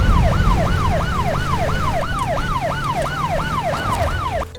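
A loud police siren from the video game SnowRunner wails in rapid, regular rising-and-falling sweeps over an engine rumble, then cuts off abruptly.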